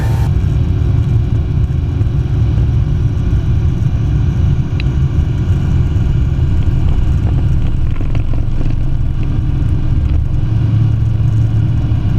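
A small single-engine training aircraft's engine drones loudly and steadily during its takeoff roll, a constant heavy rumble with no speech over it.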